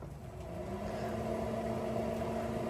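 A RecTeq 380 pellet grill powers up outdoors on a damp, drizzly day, giving a steady low mechanical hum with a faint tonal whine that holds evenly throughout.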